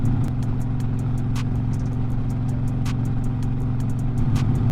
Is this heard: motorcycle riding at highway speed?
yes